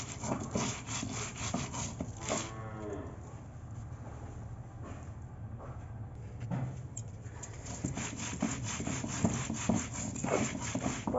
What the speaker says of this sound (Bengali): প্রথমে বেটে নিচ্ছি লঙ্কা।